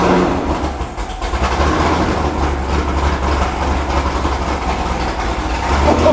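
A modified Corvette Z06 V8 runs at a steady, loud, choppy idle from an aggressive cam, with deep low rumble throughout and no talking.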